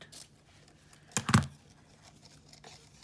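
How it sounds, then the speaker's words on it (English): A pair of scissors cuts through ribbon, a quick close-up double snip with a papery crunch that breaks a near-silent background. "let me grab my pair of scissors and make a cut"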